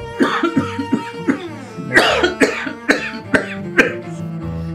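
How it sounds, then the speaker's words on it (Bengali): A heavy smoker coughs in a run of harsh, close bursts, about five in quick succession, over steady background music. "দেখো, তোমার কাশি কত বেড়ে গেছে।"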